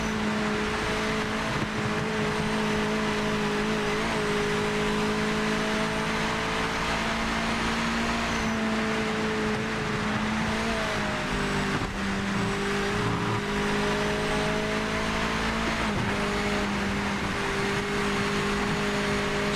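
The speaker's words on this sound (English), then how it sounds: "See if we can get up the hill in 4th without changing down." A race car engine in Project Motor Racing labors up a hill in fourth gear. It holds a steady, droning tone that sags slowly as the car loads, with brief dips and recoveries. The sound is continuous and close, with no talking.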